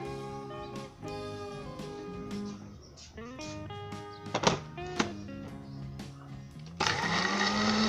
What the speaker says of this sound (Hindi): ब्लेंड कर लीजिए।